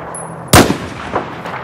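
A single sharp gunshot in Battlefield 4, a loud close crack followed by a short decaying echo and faint rumbling tail, with no talk.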